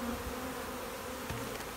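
Honey bees buzz at a hive, a dense continuous drone that fills the whole moment at close range with no voices.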